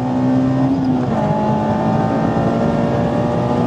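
Mazda MX-5 ND fitted with an S2000 engine package revving hard, a loud close engine note climbing in pitch, dipping briefly at a shift, then pulling strongly again without talk.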